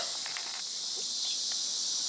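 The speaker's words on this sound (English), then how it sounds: "those cicadas are loud, aren't they? That's what they are, cicada bugs" Cicada bugs buzz outdoors around an apartment, a dense, continuous high-pitched drone that fills the whole stretch, loud and steady, with faint soft rustles beneath.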